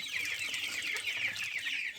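Dense, continuous high peeping of young meat chicks and ducklings packed together in a brooder, a steady chorus of chirps at moderate distance.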